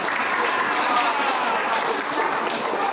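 Audience at a community harmony dialogue in Baubau breaks into sustained applause, a dense, steady wash of clapping from a crowd that fills the room for the whole stretch.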